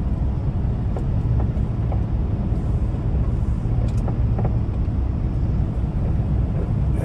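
A Prime Inc tractor-trailer truck rolls slowly onto a CAT scale with a steady low engine rumble and a few faint clicks and knocks.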